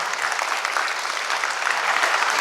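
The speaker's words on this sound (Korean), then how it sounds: "이렇게 박수를 쳐주셨기 때문에" Audience in a lecture hall clapping steadily, a dense even wash of applause from many hands filling the whole stretch with only faint crowd murmur underneath.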